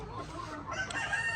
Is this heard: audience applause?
no